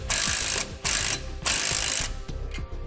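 Ratchet wrench with a 19mm socket snugging a lock nut on a TorkLift StableLoad rear suspension upgrade for a 2018 Ford truck, rapid, loud clicking in three back-and-forth swings followed by softer clicks.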